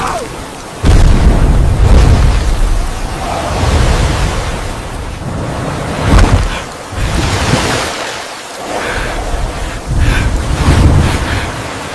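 Sea waves crash and surge loudly at close range, repeated heavy rushes of surf with windy roar between them and no voices.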